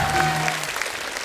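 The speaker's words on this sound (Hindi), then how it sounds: "इनके लिए जोरदार ताली।" Studio audience applause on a television comedy show, a loud, dense burst of clapping heard alone, starting over a brief tone and fading after about a second.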